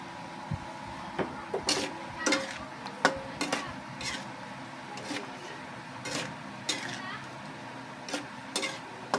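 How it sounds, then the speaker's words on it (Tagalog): Sugar is stirred in a pan while sweet tamarind cooks, producing repeated scraping and clinking of a utensil against the pan over a low, steady sizzle. "Tuloy-tuloy lang natin ang paghalo guys para hindi masunog yung natin, yung sugar natin."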